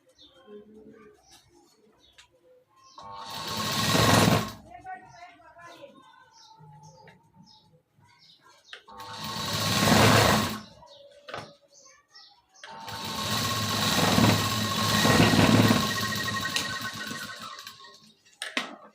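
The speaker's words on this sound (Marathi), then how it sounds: "लगेचच एक डबल शिलाई द्यायची आहे" A sewing machine stitches a tuck on a size-38 four-tuck blouse, running in three bursts: two short ones and a longer steady run, with quiet talk in the pauses between.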